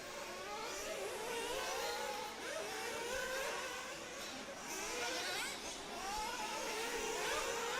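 Nitro RC buggies racing at the EFRA Nitro Buggy European Championships qualifying: a continuous, steady high-pitched engine whine from several small cars, swelling slightly as they pass and never dropping away.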